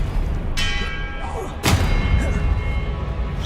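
In the Hogwarts Legacy video game, a Confringo spell goes off as a sharp burst with a ringing tail, then a heavier boom about a second later over a rumbling battle background.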